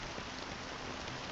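Rain pours in Honkai Star Rail, a continuous broadband patter of drops, close and even, with no voices over it.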